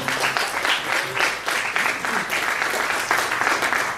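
A church congregation at an evening testimony service claps together, a dense steady patter of many hands ringing out close and loud for several seconds.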